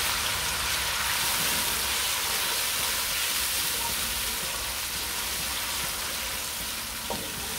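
Onions frying in a pan, a steady close sizzling hiss that continues evenly throughout, with a faint utensil tap near the end and no talk.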